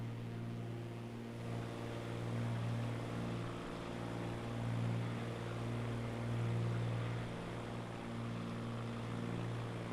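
A steady, loud propeller airplane engine drones inside a flight simulator cockpit with a constant low hum. The pitch wavers slightly throughout and no voices are heard.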